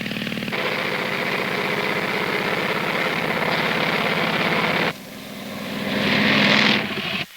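A propeller airplane in flight, a steady droning engine with a buzzing prop tone, loud and continuous, dipping briefly then swelling again before cutting off near the end.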